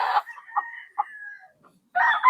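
A gamefowl rooster at a game farm crows clearly and close by, its long strained call running for about a second and a half between short clucking bursts, with another loud crow starting right after.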